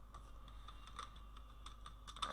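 A computer keyboard is typed on quietly and at close range, giving a quick, irregular run of soft key clicks over a low background hum.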